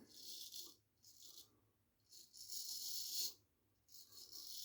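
A razor rasps through three days of stubble during a shave, repeated close scratchy strokes in bursts with short pauses between, quiet and intimate.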